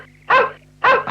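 A dog barks twice, loud and close, the two sharp barks evenly spaced with a low steady hum underneath in a scene from the old Malayalam film Ormacheppu.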